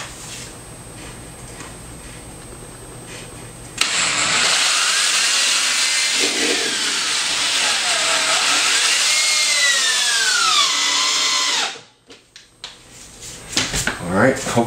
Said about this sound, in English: I'll go ahead and run one screw in here, take off that last clamp, and run the second screw in